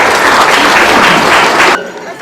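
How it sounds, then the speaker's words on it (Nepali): Loud crowd applause at a family Chelibeti Bhoj gathering, a dense burst of many hands clapping close by that stops abruptly after under two seconds. "तपाईँहरूले जोरदार तथा ताली बजाइदिनु होला।"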